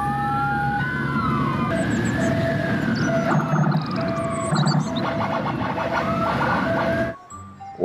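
A toy ambulance's warbling electronic siren wails steadily at close range, with bright beeps layered over it, then cuts off near the end.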